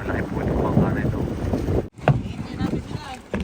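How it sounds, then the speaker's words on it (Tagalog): A large fishing boat ride gives continuous wind-buffeted rumble of engine and rushing water, with people talking over it and a brief dropout before the noise resumes. "Malaki po yung bangka na ito."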